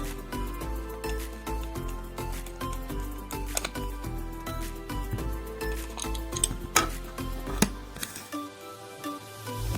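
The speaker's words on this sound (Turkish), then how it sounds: "Bunu ortasındaki bu vidayı sökerek başlıyoruz" A wall socket cover's centre screw being unscrewed by hand, with faint, irregular scraping, clicking and metallic ticks from the screwdriver and plastic, quiet and close, with no talking.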